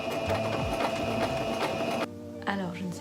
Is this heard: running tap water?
no